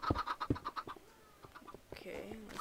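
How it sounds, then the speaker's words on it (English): Chickens in Minecraft clucking and squawking repeatedly in a busy, fairly loud stream of short calls, with game noise underneath and no talk. "The chickens are a little bit loud."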